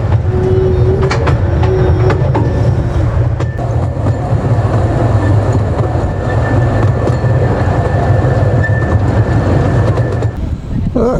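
A small tourist train on the Blenheim Palace grounds rolls along with a steady loud rumble and rhythmic rail clatter, a brief whistle-like tone early on, and faint voices mixed in.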